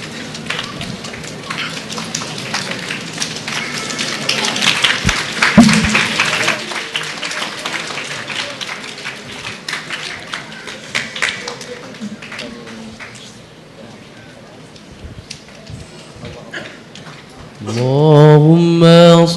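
A congregation claps hands in unison during a religious gathering, a dense broadband patter of many palms that swells and thins over several seconds, with voices and singing breaking in near the end.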